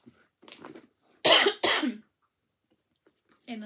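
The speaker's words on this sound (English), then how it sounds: "I apologise for all the coughing in the middle of this." Two sharp, close coughs in quick succession, preceded and followed by faint breathy sounds.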